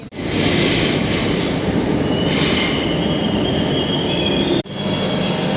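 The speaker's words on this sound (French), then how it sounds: "Les RER d'Espagne." A Spanish commuter train on the outskirts of Madrid runs loud and close, its wheels squealing steadily against the rails over a rumbling roll, with a brief dip near the end before the noise resumes.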